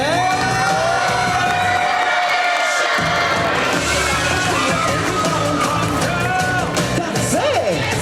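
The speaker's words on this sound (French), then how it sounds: "Encore plus fort les applaudissements, s'il vous plaît." A loud crowd at a cosplay contest cheers, whoops and claps all at once, with high shouts and whistles rising over continuous applause.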